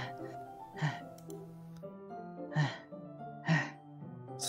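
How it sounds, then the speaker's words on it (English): Sharp, hissing inhales drawn through clenched teeth from a character in the visual novel game Doki Doki Literature Club, three distinct breaths at steady intervals over a sustained low musical drone, close and moderately loud with no talking. "A sharp inhale, like someone is sucking the air through their teeth."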